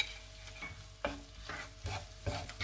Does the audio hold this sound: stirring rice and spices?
yes